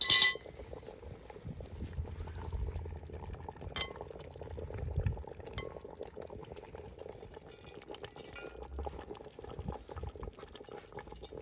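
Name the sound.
liquid splashed over leg of lamb in pot on wood fire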